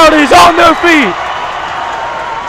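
High school varsity boys basketball playoff crowd on its feet in a gym, a broad roar of cheering that continues steadily behind and after a commentator's voice.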